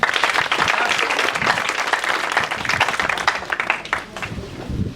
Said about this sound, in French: Applaudissez d'abord pour vous-même.